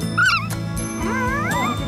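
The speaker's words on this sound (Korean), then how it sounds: "낑낑대는 소리마저 우렁찬" A newborn puppy, held close against its nursing mother dog, whimpers in thin, high rising squeals, close and fairly loud, with a faint jingle in the background.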